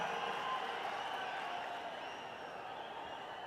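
Sustained crowd applause at a large political rally in Madurai, a steady wash of clapping held at an even level throughout without pause.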